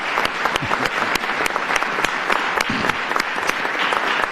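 A hearing audience in Iqaluit applauds for the translators, a dense, steady wash of many hands clapping close and loud throughout, with no voices over it.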